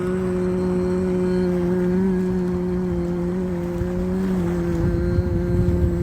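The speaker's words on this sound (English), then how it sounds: "there's a dude on his scooter" A motor scooter's engine hums in a steady tone with a slight pitch change as it goes by outdoors, fairly close, with no talk over it.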